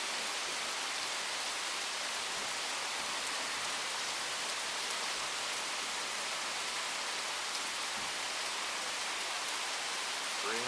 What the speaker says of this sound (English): Raindrops are sick.